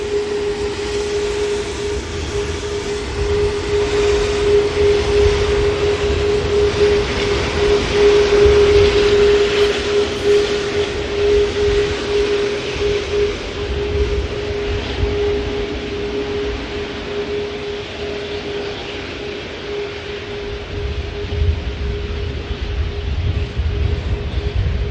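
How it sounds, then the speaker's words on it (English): An Atlas Air Boeing 747 taxis into Terminal 1 at Manchester Airport, its jet engines making a loud, constant whining roar with a steady tone that holds for the whole stretch, heard alone. "Taxiing this aircraft into Terminal 1 at Manchester Airport."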